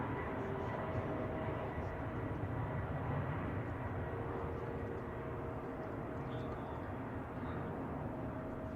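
A United Boeing 777-200 in Star Alliance livery arriving at San Francisco Airport from London, a continuous broad engine roar that holds steady and fairly loud throughout.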